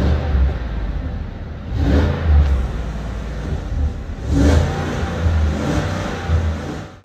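A new Cadillac engine revs in repeated swells, its deep rumble rising and falling in three or four surges heard up close with no talking.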